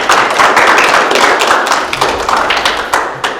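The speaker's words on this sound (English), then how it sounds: "Round of applause for that." Crowd clapping at a school Ballvivor season finale tribal council, a dense burst of many hands that starts loud and thins into scattered claps as it fades.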